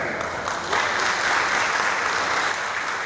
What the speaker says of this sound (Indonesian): Para hadirin beri tepuk tangan yang sangat meriah.